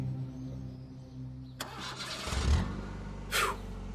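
A car engine cranks and catches, going from a low hum to a louder running roar, with a brief rev near the end. No one speaks.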